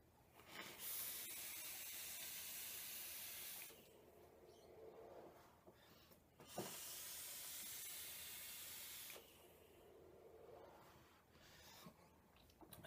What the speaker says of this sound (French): Ça, c'est de la vapeur.